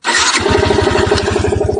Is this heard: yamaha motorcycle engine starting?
yes